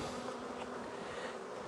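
Honey bees buzz in a dense, continuous drone at an opened apiary hive during an inspection, close and steady without any talking.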